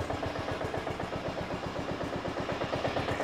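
A Briggs and Stratton Intek small engine idles low, with a rapid, steady knocking pulse from a bad connecting rod riding over the close, running mechanical drone.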